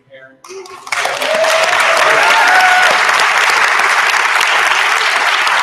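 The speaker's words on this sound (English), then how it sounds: "The biggest round of applause of the nation go to this person here." Audience at a hackathon's final presentations at the MIT Media Lab bursts into loud, sustained applause after a short voice, with many hands clapping densely and a few cheers and whoops rising over it.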